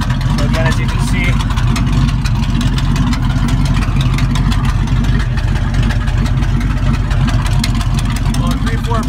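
A 1979 Ford F-100 Custom with a 302 V8 and headers idles steadily, giving a continuous close, loud low rumble that holds an even beat with no revving.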